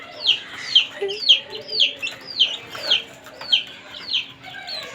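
Chickens and chicks cluck repeatedly in a steady rhythm under a light, with short bright calls rising over a faint continuous hum, fairly close.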